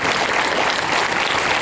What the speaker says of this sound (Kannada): ಅವರಿಗೊಂದು ಜೋರಾಗಿ ಚಪ್ಪಾಳೆಯಿಂದ ಅವ್ರಿಗೆ ನಮಸ್ಕಾರಗಳನ್ನು ಸಮರ್ಪಿಸ್ತಾರೆ.